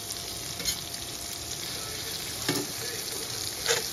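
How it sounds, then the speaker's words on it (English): Spicy Cajun andouille hot sausage browning in a hot pan for gumbo, a steady close sizzle and fry with a few brief louder scrapes of stirring, no voices. "Brown my sausage on both sides to your desire."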